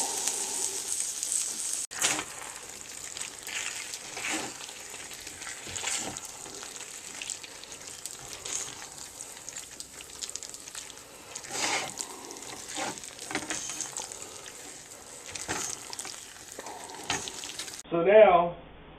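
Carrots, onions and garlic sizzle and fry in a pan with seitan and potatoes, a steady crackling hiss with occasional stirring scrapes, ending in a short burst of clatter.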